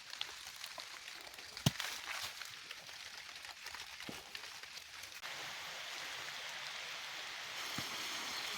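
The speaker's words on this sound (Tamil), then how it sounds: "இந்த கோடை காலத்தில் ஒரு நல்ல மழை, தொடர்ந்து 2 நாளாக மழை பெஞ்சிக்கிட்டு இருக்குது" Steady summer rain falls outdoors in a garden where seeds are being planted, a constant broad hiss of drops with a few sharper taps, heard alone without talk.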